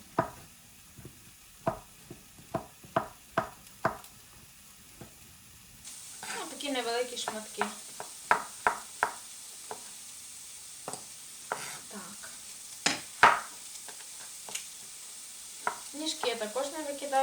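Onion sizzles in a hot pan, with a run of sharp knocks and clatters and a brighter, steady frying hiss building partway through.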